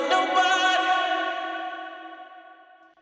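A sung vocal line is thrown into a delay and reverb effect, its echoing tail smearing and repeating as it slowly fades away over about three seconds, with no other sound.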